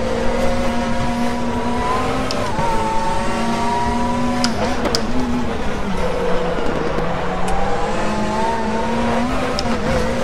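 A WTCC touring race car engine in the RaceRoom sim at the Macau circuit drones steadily throughout, with loud continuous revs rising and falling through gear changes.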